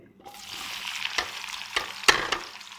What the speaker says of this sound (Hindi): तो अब हम प्याज को फ्राई करेंगे